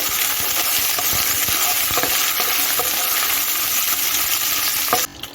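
Raisins fry in hot oil with a dense, close, steady sizzle and occasional stirring clicks, ending abruptly near the finish, with no voices.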